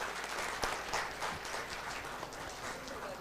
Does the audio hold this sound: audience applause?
yes